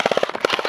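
Airsoft guns lay down suppressing fire during an outdoor skirmish game, a rapid burst of quick, evenly spaced pops close by.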